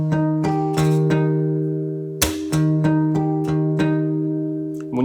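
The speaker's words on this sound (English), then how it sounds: "The next step is we're going to do a little bit of a slap with the thumb." A percussive acoustic guitar pattern: plucked notes ring over a sustained chord, punctuated by sharp thumb slaps on the strings in a steady rhythm, played close up with no talk.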